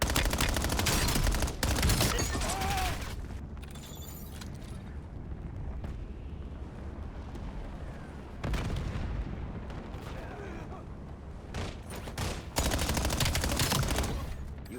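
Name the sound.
gunfire in video game Black Ops 7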